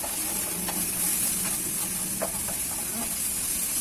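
Black pork hits a hot pot for a Thai pork-bone curry with cha-om, giving a steady close sizzle and hiss with light stirring clicks and no talk.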